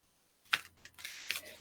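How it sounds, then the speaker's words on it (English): Healing with the Angels oracle cards are shuffled by hand, giving two or three quick papery riffles and flicks close to the microphone in a quiet room. "I'm just shuffling these Healing with the Angels"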